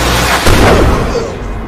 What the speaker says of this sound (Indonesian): ibunya si Alpha menembak Titi